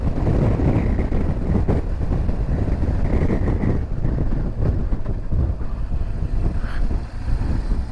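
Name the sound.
strong wind by the water on Connemara coast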